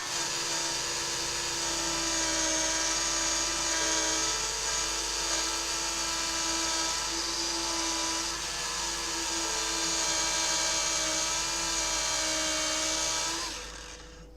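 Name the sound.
polisher restoring Amstrad CPC 464 casing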